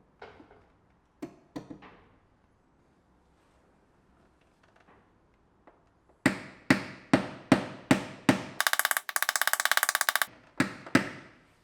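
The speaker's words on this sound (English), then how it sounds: "access the panel from the back and massage the metal back into place with special rods" Paintless dent repair on the body panel of a V12 BMW E38 750iL: sparse sharp metallic taps, then a quick run of regular knocks, a brief harsh buzzing burst and a few final taps.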